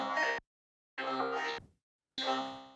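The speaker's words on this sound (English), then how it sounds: "vocoder, panning delay, and filter, and it affects my vocals and the vocoder" Vocals processed through a vocoder with panning delay and filter on an RC505 looper, heard as three short, buzzy synthetic vocal bursts separated by silent gaps.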